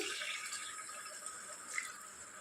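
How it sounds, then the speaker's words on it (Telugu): A steady stream of water splashes and hisses into a pressure cooker, continuous and close, with no voices. "ఈ చిన్న కప్పు వాటర్ యాడ్ చేసుకోవాలి"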